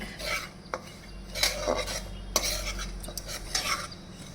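A spoon stirs and scrapes semolina in a pan for gulab jamun. Repeated gritty strokes and occasional metallic knocks carry over a faint, low background hum.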